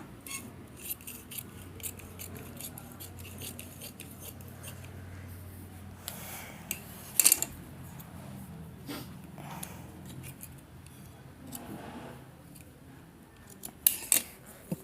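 Scissors cutting fabric for a maggam work blouse, with sporadic close snips and rustling of cloth, a few sharper crisp cuts standing out over a quiet room.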